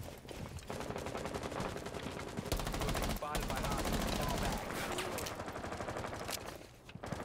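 Sustained rapid automatic gunfire in a multiplayer shooter game, loud and continuous bursts with brief gaps, a voice speaking over parts of it.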